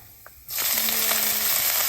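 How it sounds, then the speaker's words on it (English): Lentils hit hot oil with a sudden burst of steady sizzling that keeps on crackling and hissing close by, with no talk. "So now I'm just going to add the lentils, let it sizzle and get a little brown"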